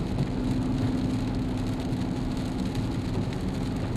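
Porsche 957 Cayenne V6 fitted with a Maxflo Supercup exhaust, secondary cat-bypass pipes and stock middle resonator, giving a steady deep low rumble heard from outside the car, continuous and moderately loud throughout.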